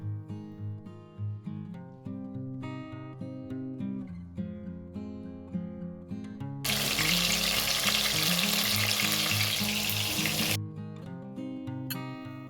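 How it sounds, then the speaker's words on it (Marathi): Paneer cubes dropped into hot oil in a wok, a loud sustained sizzle lasting several seconds that starts abruptly and stops abruptly, under a steady background of music. "ते आता आपल्याला कढईमध्ये फ्राय करून घ्यायचं आहे"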